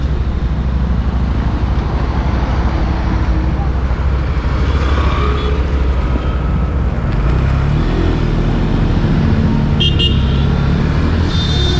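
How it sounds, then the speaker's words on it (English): A 2020 Yamaha FZS FI V3 BS6 motorcycle engine hums continuously and loudly up close while turning, with road noise and a faint horn-like tone near the end. "So you can listen the engine sound coming while turning the radius of the vehicle"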